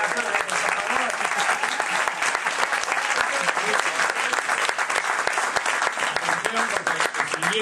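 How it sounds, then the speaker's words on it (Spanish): An audience applauds steadily throughout, a dense wash of many hands clapping at close to medium range, with some voices mixed in. "Un aplauso para Sócrates."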